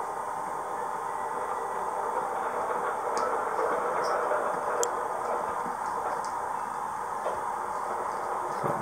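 A model train rolls past at a distance on a model railway layout with a steady low rumble and occasional light clicks from the track.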